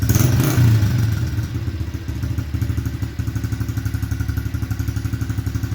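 Engine of a 2015 Honda CRF110 dirt bike with a freshly cleaned carburetor and no choke, revving loudly at first and then settling into a steady, rapid, close-up putter with throttle response, with no talking.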